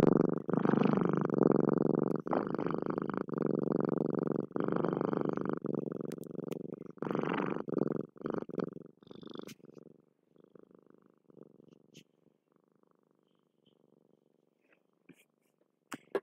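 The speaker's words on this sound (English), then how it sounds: "Purr for everybody. Say purr," A cat purrs close up with a steady rumbling purr that is loud at first and fades to faint, broken purring near the end, with a person speaking softly at times.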